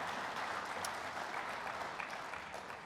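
Steady audience applause at a Canadian union event fills the room for about three seconds, dense and even, fading slightly near the end.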